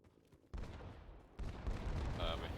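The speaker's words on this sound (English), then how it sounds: "I'm hearing gunshots. That's a little worrying" Gunfire in an online shooter game: a sharp burst, then a second heavier burst opening into a dense, continuous volley of shots that stays loud to the end.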